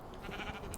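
Sheep bleating in the Minecraft video game, a short, faint bleat heard alone.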